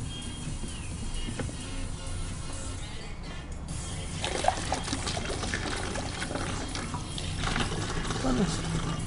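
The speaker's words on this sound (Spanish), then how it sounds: "Pusimos solo un poco de agua." A small amount of water is poured and trickles in a steady, continuous wash of splashing noise, fairly close and unbroken throughout.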